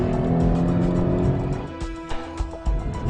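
A 2013 Hyundai Genesis Coupe V6 engine revs with a deep exhaust growl that rises, then settles into burbling blips and pops, close and loud.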